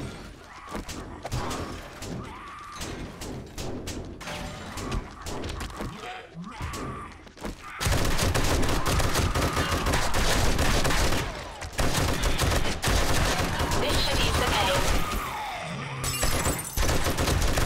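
Gunfire from the video game 7 Days to Die Alpha 20 rings out in loud, dense bursts of rapid shots with thuds and impacts, one sustained volley stronger than the rest.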